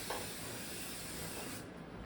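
A continuous aerosol can of basting spray hisses close by onto a quilt for nearly two seconds, then cuts off abruptly.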